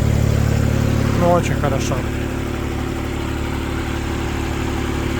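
A HINOMOTO E2604 tractor idles with a steady mid-pitched engine drone while its front loader lifts. The engine holds close and constant, and voices talk briefly over it.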